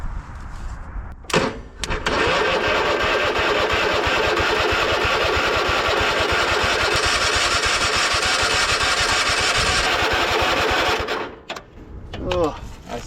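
A Cub Cadet Super LT 1550 lawn tractor, an old machine with stale gas, cranks on a jump pack and its engine runs loud and steady for about nine seconds, then cuts out with short bursts of cranking at the start and end.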